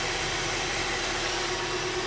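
A Kia Soul engine idles steadily after a cylinder head rebuild, a constant close hum with a dense, even whir and a faint tonal drone, uninterrupted and without voices.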